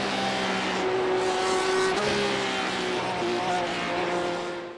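Race cars in the sim racing game iRacing, engines whining at high revs with shifting tones and a passing surge, heard under a narrator's voice.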